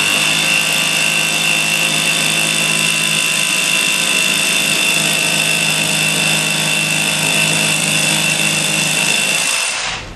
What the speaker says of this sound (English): I've got an old piece of paving slab here that I'm going to drill into